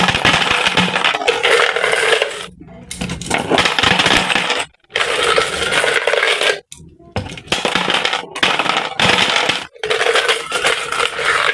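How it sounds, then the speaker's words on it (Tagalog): Coins poured and dropped into a plastic water jug coin bank, a dense loud jangling clatter in repeated bursts separated by brief silent pauses, no talk. "Okay, laglag na natin itong mga barya natin."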